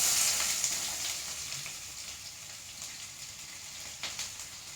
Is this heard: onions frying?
yes